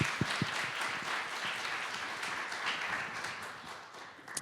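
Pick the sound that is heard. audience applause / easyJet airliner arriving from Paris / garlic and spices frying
audience applause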